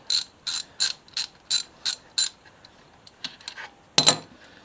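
Ratchet loosening a bolt on an MV Agusta F3 motorcycle during an oil change, about eight quick clicking bursts in an even rhythm, then a few softer clicks and one sharper clatter, close and clear.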